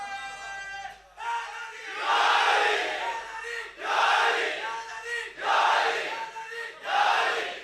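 A crowd at a religious gathering shouts a slogan in unison, four or five loud swelling chants in a steady rhythm, each answering a single leading voice.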